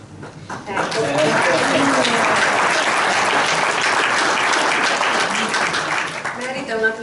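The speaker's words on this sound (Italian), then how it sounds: "Merita un applauso perché hanno cominciato già a fare il loro lavoro." Sustained audience applause fills a lecture hall at an opening address, building quickly and holding steady with a dense wash of clapping, while a few voices speak faintly near the start and end.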